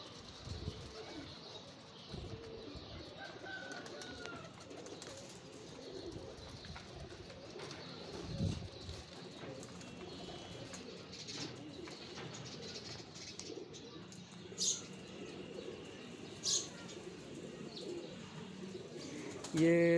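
Pigeons coo softly amid a busy background of chirps, rustling and occasional wing flaps, with low murmuring and scattered knocks throughout.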